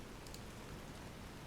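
Steady rain falling in the Fallout New Vegas game world, a constant dense patter that holds evenly for the whole moment with no voices over it.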